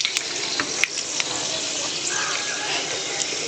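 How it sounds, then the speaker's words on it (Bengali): Whole garam masala spices sizzle in hot oil in a kadai, a bright steady hiss with scattered pops and crackles, close and continuous throughout. "দেবো গোটা গরম মশলা ফোড়ন।"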